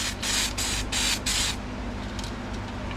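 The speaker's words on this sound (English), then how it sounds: "hitting it with some primer. Doing some light coats real quick right now" Aerosol can sprays light coats of primer onto a sanded Acura Type S rear bumper in four short hissing bursts, close and clear, followed by quieter room noise.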